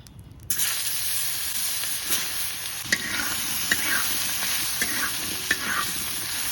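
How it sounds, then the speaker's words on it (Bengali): Potato and cauliflower hit hot oil with a cumin tempering, bursting into a loud, steady sizzle and hiss, punctuated by occasional spatula taps and stirring scrapes. "জিরে ফোড়ন দিয়ে দেব, আলু আর ফুলকপিটা দিয়ে দেব"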